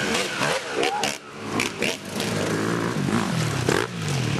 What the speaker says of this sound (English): a dirt bike going really loud through the woods